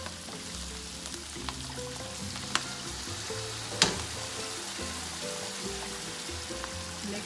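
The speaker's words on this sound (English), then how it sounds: "continue sauteing it for a little bit, just to combine all the ingredients" Pork laing with coconut cream sautés in a pan, a steady close sizzle and bubbling fry with occasional scraping clicks from stirring.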